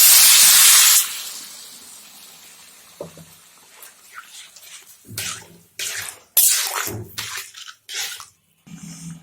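Water pours into a pan of hot kohlrabi and potato masala with a loud, hissing rush of steam that fades quickly, followed by scattered clinks and scrapes of utensils, close and without speech.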